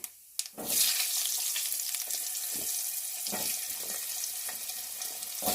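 Cubed potatoes drop into hot oil with whole cumin for a winter-vegetable tangra fish curry, setting off a loud, steady broadband sizzle after a brief quiet start, with scattered soft clinks and stirring scrapes through it.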